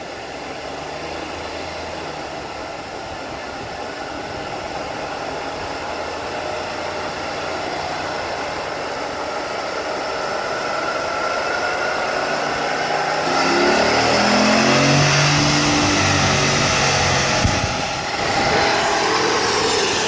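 A 2019 Dodge Ram with the 5.7 Hemi and a K&N cold air intake runs on a dyno, a loud steady engine roar and whine that climbs in pitch and intensity through the pull, then holds high.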